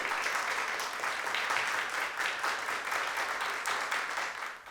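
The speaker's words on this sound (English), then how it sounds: "Can we have a round of applause?" Steady audience applause for a panel at the end of a TEDx event on Lake Tahoe water clarity, a thick continuous patter of many hands, moderately distant, tapering off at the end.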